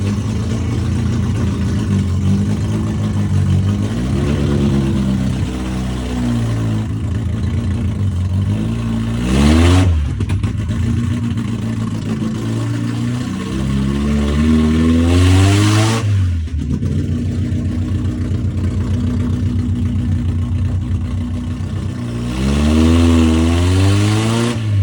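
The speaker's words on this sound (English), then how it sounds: "here's the test drive immediately after we figured out the issue with the firing order" A 1977 MG Midget engine on a test drive, running again after a firing-order fault was fixed, revving up and down through repeated gear pulls, loud and close from inside the car with no talk.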